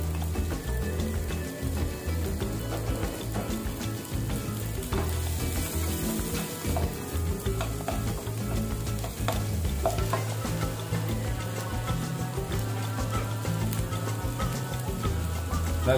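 Chopped onion sizzles steadily in hot oil in a pan while being stirred for a jackfruit and horseradish dish, a continuous crackling fry with occasional scraping and no talk.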